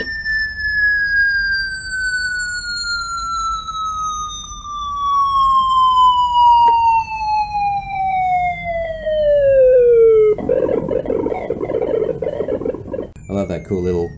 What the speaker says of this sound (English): Here's some interesting Space Invader sounds that have a cool little glitch that I've found.